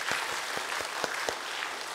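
A church congregation gives soft applause, a faint background wash of clapping dotted with a handful of distinct, separate hand claps nearby.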